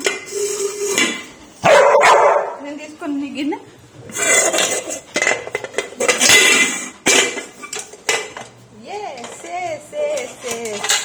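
A dog's metal bowl and dishes clatter and scrape in short bursts, a dog yips and whines between them, and a person talks briefly nearby.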